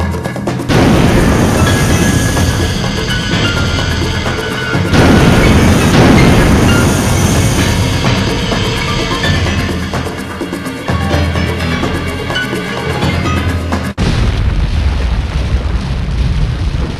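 A missile launch in the Sonic Adventure game on Dreamcast: loud, sustained rumbling roars and booming bursts rolling through in heavy waves, with an abrupt cut to a different steady roar near the end, no voices.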